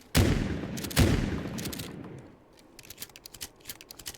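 A Model 680 pump-action shotgun in Fallout 4 fires two loud, close booms about a second apart, followed by a run of quieter mechanical clicks and clacks of pumping and reloading shells.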